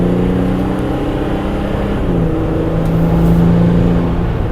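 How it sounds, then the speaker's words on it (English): A Ram 1500 EcoDiesel pickup with a fully deleted exhaust accelerates hard, heard from inside the cab as a steady, loud diesel drone and whir with rising engine tone throughout. "I'll actually stand on it so you can see what it sounds like in the cab with a completely deleted exhaust."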